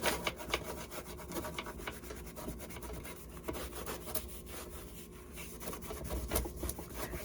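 Cloth rubbing clear wax across a painted wooden drawer, a steady scratchy swishing with repeated strokes close by and no talking.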